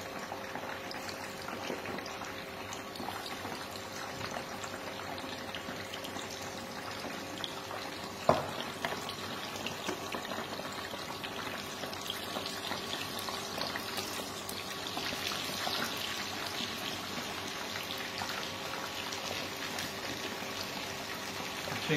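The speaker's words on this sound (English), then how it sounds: "Now I'll start frying the flakes, onion flakes. The oil is hot enough." Onion flakes frying in hot oil during home cooking, a steady dense sizzle and bubbling that runs unbroken for the whole stretch, close and fairly loud with no talking.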